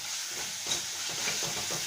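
A spice paste for a prawn and pointed gourd curry sizzles in a pan just after a splash of water is added, giving a steady, close hiss with faint bubbling crackles.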